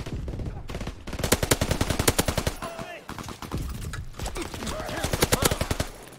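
Rapid automatic gunfire in Call of Duty WWII, long fast bursts of loud, evenly spaced shots with short breaks between them and a voice talking briefly.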